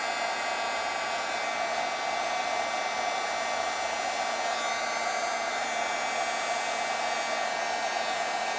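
A heat tool blows a constant, even hot-air hiss while melting white embossing powder on a Christmas stamped card, a steady close drone lasting the whole stretch with no one talking.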